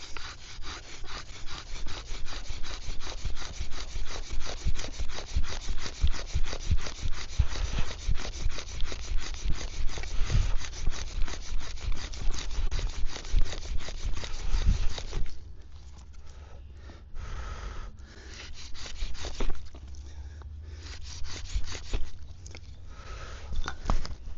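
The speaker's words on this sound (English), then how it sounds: "I use my balsam fir fire set with the fatwood spindle." A bow drill works a fatwood spindle against a balsam fir board, producing a rapid, rhythmic rasping back and forth that runs steadily, then turns into slower, broken strokes near the end.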